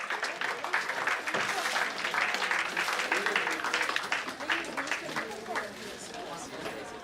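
Audience applause at a chartered accountants' day celebration honouring senior members, a steady wash of clapping from a large hall crowd that continues throughout and eases slightly toward the end, with faint chatter mixed in.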